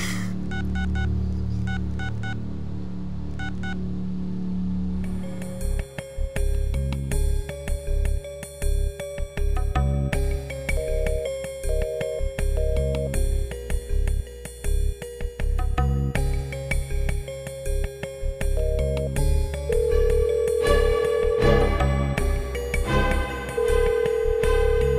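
Telephone keypad tones beep in a quick series, followed by a repeating electronic ringback pattern that continues steadily at close range, with no talking.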